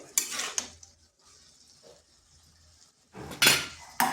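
A spoon knocks and scrapes in a cooking pan as cabbage is mixed into dal, with clattering bursts at the start and end and quieter stirring in between, close by with no talk.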